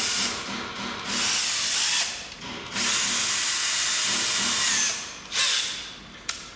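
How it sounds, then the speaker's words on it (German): Cordless drill with a small bit drilling out old pop rivets on a car, several loud whining bursts with short pauses between them, the last one very brief. "Dann brauchen wir wieder unseren Akkuschrauber. Und einen etwas kleineren Bohrer."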